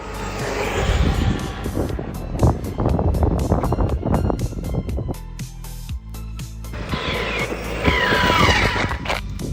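A ZD Racing MX-07 RC truck at full throttle: a loud, high, whining motor that surges and drops in repeated bursts as it speeds past, with tire scrabble, close and dominant.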